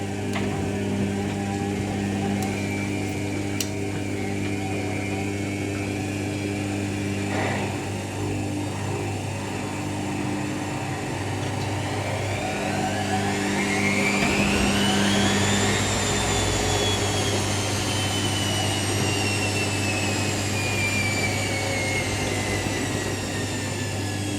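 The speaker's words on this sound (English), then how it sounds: "First intermediate spin." An Indesit WIDL102 washer dryer starts its first intermediate spin with a short 400 RPM burst. A steady motor hum gives way to a rising whine that climbs and then holds, loud and close.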